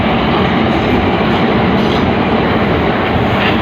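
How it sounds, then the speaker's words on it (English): A South Western Railway Class 444 electric train in clean corporate livery passes through Clapham Junction station, giving a loud, steady, close rumble that lasts throughout. "And we have another train."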